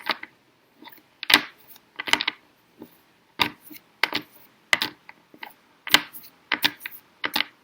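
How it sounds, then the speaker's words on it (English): A deck of tarot cards is shuffled by hand in a quick run of soft, irregular slaps and flicks, close up and quiet, with no talking. "I'm just going to do a quick shuffle."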